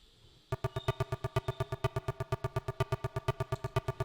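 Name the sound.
techno percussion loop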